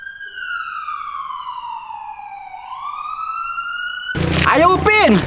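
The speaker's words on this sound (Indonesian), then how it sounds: "tidak tahu ambulannya di mana. Tapi suaranya keras banget ya, Upin." An ambulance siren sounds one long, loud wail that sweeps down and then back up clearly on its own, followed by a voice speaking at the end.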